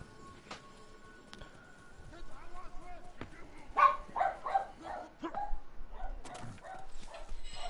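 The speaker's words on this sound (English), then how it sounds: "I hear dogs barking." Dogs bark intermittently in the Ghost of Tsushima game, short bursts clustered in the middle of the stretch and fairly close, with a person talking over and between them.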